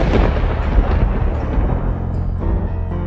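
A loud thunder clap sound effect, a deep rolling boom with crackling rumble that sustains and slowly fades over a few seconds, heard alone without speech.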